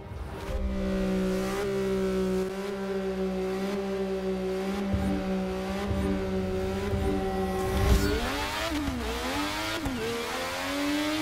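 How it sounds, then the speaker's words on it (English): A high-pitched Indy race car engine in a racing video game drones steadily at speed, then revs up and down with shifting pitch toward the end; no voices. "Now this really sounds like an Indy car."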